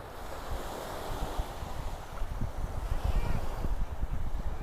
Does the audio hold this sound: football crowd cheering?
no